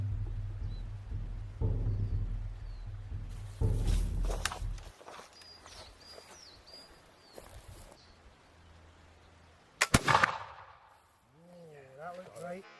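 A flintlock pistol fires a single sharp, loud shot at a Highlander targe shield outdoors, preceded by walking and low talk and followed by excited voices.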